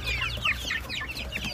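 Hens cluck and chirp in quick, overlapping calls close by, with baby chicks in a busy flock murmuring without pause.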